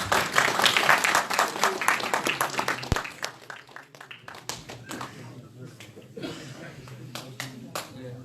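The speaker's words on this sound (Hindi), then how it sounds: "चौधरी मोहम्मद अमीन तालियां हो जाए जनाब।" An audience at a Pothwari poetry stage show applauds Chaudhry Mohammad Amin with a burst of dense clapping that thins into scattered claps, while someone speaks over it.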